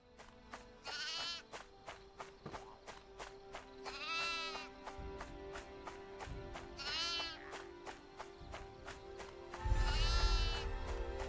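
Repeated sheep bleats in the action RPG DragonSword: Awakening, loud and close, with several wavering calls over a regular ticking, clicking game background that grows louder and fuller toward the end.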